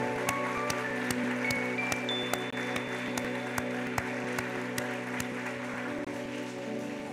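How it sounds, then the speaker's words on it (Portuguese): Church congregation applauding during a service, a steady patter of many hands clapping at moderate distance, with a sustained organ-like hum and a few high tones underneath. "Você pode aplaudir o nome de Jesus?"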